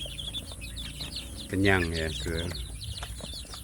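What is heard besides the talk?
free-range chicks clucking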